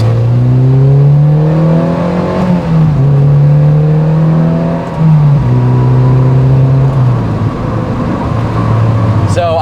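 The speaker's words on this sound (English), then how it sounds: "then we'll take it for a quick test drive and see how we did" A high-mileage Mazda NC Miata on a test drive, its engine droning loud and close with revs rising and dipping through a few gear shifts.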